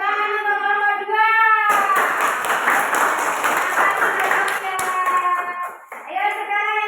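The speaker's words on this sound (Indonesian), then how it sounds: "Tepuk tangan untuk kelompok 2." A group breaks into lively applause for its second team, a dense burst of clapping lasting about four seconds, with voices heard just before and after.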